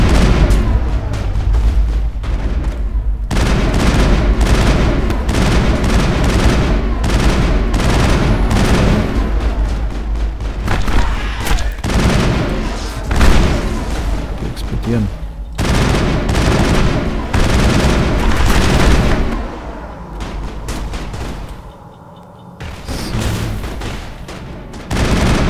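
Dense gunfire and explosions in the video game Mass Effect, rapid bursts and booms running loud and nearly continuous before a brief lull near the end, with someone talking over the action.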